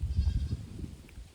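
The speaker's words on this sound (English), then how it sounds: "Goats." Goats on a farm bleat in a quick cluster of short, nasal, wavering calls, loud and close, fading slightly toward the end.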